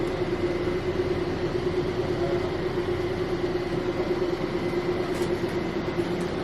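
Steady low rumble and hum from inside a moving passenger train, a continuous droning roll with a faint tonal whine, no talking.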